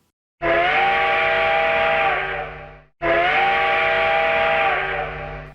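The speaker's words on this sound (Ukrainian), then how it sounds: "При евакуації з міста ви почуєте гудок потяга." Two long, loud blasts of a train whistle used as a city evacuation signal, each lasting a couple of seconds with a brief gap between them.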